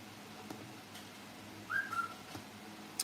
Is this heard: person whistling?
yes